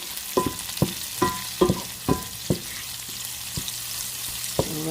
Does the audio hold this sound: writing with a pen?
no